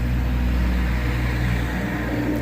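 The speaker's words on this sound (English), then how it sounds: "that traffic is really loud" Road traffic from a nearby road produces a steady, loud broadband rumble with a low engine drone, continuous throughout with no talk.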